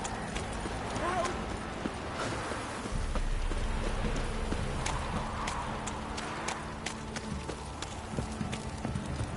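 Several horses clop along at a trot in The Witcher 3, steady hoof strikes over a light patter of rain, with occasional voices in the scene.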